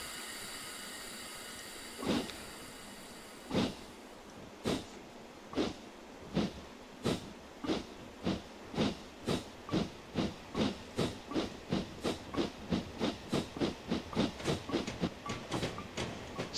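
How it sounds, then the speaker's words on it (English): A steam locomotive in Train Simulator 2014 on the London–Faversham High Speed route hisses steadily, then starts sharp exhaust chuffs. The chuffs begin slow and spaced, then quicken into a rapid, even rhythm, with no voices. "So I guess the PSI is the steam we're producing."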